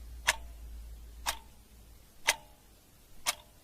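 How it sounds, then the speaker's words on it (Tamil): A wall clock ticking indoors at a steady one-per-second pace, four sharp clicks standing out clearly over a faint low hum. "வால் கிளாக் ஓடுதல்ல, அதை கொஞ்சம் கட் பண்றியா?"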